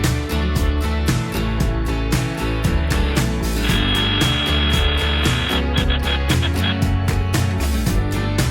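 A power tool drives a self-tapping screw with a rubber grommet into a pop-up camper, whirring and grinding up close with rapid ratcheting pulses and shifting motor pitch throughout.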